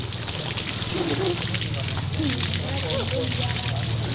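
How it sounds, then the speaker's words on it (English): Outdoor shower in the heat of Burkina Faso pouring water in a steady splashing stream, with people talking over the running water. "Best shower you ever had?"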